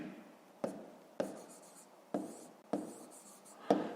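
A math expression for a fifth-grade exercise handwritten on paper, close scratchy pen strokes broken by five sharp taps as the pen touches down, steady and unhurried, with no talk.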